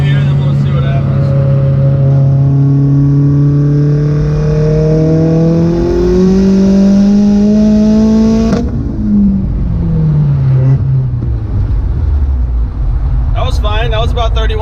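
Turbocharged Volkswagen Jetta pulling hard in third gear, a loud steady engine drone climbing in pitch with rising boost whine, then a shift or lift near the end as revs fall away, heard up close from inside the car.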